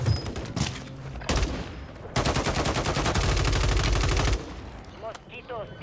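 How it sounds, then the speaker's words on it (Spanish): Gunfire in the video game Warzone: loud rapid automatic bursts, a sustained machine-gun stream over several seconds, with scattered single shots before and after. "¡Están disparando!"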